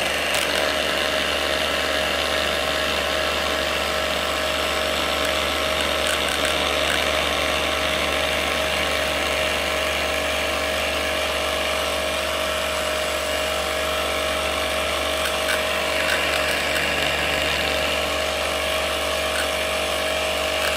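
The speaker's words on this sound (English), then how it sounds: "One spinning Dremel lifts this magnet up, while two give complete stability." Dremel rotary tools spinning cube magnets at high speed, a steady mechanical whir with a constant high tone and faint rattling texture throughout, no voices.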